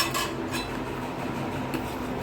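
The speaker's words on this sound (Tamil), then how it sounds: "அடி பிடிக்காம பாப்பா கிளறிட்டே இருக்கணும்." A spoon stirs lentil rice (urad dal rice) in a pot over a low flame. Soft, continuous scraping and rubbing against the metal is heard up close, with a few slightly sharper clinks.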